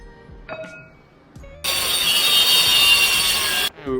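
A power tool cuts tabs off a metal seat rail bracket in one loud, steady two-second burst, a harsh high whine up close, after a few quiet clicks and handling noises.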